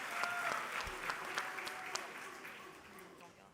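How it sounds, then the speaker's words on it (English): Audience at a congressional town hall meeting applauds with steady, dense clapping that starts fairly loud and gradually thins and fades toward the end. "let's give them a round of applause for showing up."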